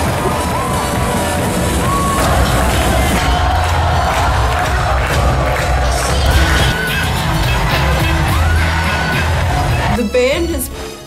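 High school crowd at a Dowagiac football game cheering loudly and continuously, a dense roar of shouting and whoops with a sharp burst of noise near the end.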